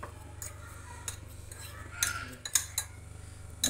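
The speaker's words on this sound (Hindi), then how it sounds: "मैं कांटे के साथ मैंने सारा दोनों अंडों को मैश कर लिए" Boiled eggs mashed with a fork in a dish, producing repeated metallic scrapes and light clinks against the bowl, close by over a steady low hum, with no talking.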